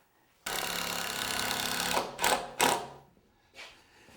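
A power screwdriver drives rust-resistant screws into an outdoor garbage enclosure frame, one long whirring run followed by two short bursts and a final brief spin, close and clear.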